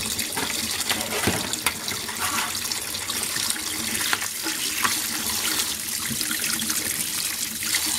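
Snails are rinsed under a running kitchen tap while being prepared for a Burgundy-style recipe, with a steady, close, splashing rush of water throughout and small clatters in the sink.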